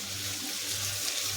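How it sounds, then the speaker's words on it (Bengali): Hot water is poured into a pot of boiled meat, making a continuous, even hiss of splashing liquid close by, with no voices. "গরম জলটা মাংস দিয়ে দেবে, ফুটানো হয়ে গেছে।"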